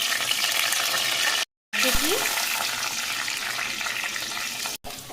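Curry leaves hit hot oil for a vegetable patishapta filling, a loud, continuous hiss and crackle of frying that cuts out briefly twice, with a voice heard faintly over it.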